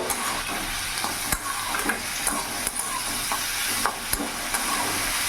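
Onion stalks fry with a steady hiss in a pan over a raised gas flame, and a utensil scrapes and stirs now and then with soft clicks. There is no talking.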